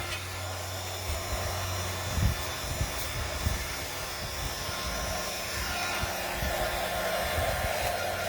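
A hair dryer runs outdoors in a garden, drying a craft project made from a shutter: a steady, loud, continuous blowing whoosh with a low motor hum that holds level throughout.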